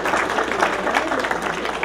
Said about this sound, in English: One more round of applause for our speaker,